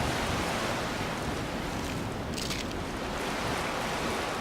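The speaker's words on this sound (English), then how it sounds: "it's the waves outside, the wind" Ocean waves and wind roll steadily outside a wrecked ship's cargo hold in Skyrim, a continuous broadband wash with a low rumbling swell and no voices.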